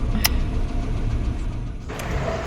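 A vehicle engine runs with a steady low rumble close by, with two brief sharp clicks over it.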